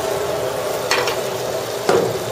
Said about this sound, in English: We're frying this now